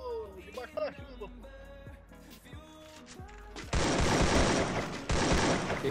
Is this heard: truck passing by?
no